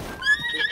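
A horse in The Legend of Zelda: Tears of the Kingdom gives a short, clear whinny up close, a brief wavering call with a faint bit of background game sound and no one speaking.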